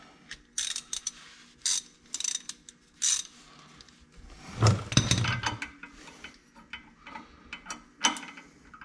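Ratcheting clicks in short bursts as U-bolts are tightened on the brackets of a dual steering stabilizer on a Jeep Gladiator, with a louder clatter of metal mid-clip; close and fairly quiet, no talking.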